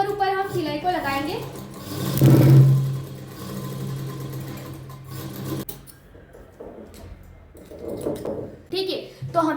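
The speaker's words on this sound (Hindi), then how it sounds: "ये जो सिलाई हम यहाँ पर लगाएंगे निशान के ऊपर हम सिलाई को लगाएंगे" A sewing machine stitches tucks into blouse fabric, a brief whirring run near the start, with someone talking over and around it.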